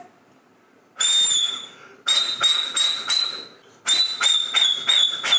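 A person whistles loudly and close up: one long sustained high note, then a quick series of short chirping whistles, a pause, and another run of rapid tweets, with no talking.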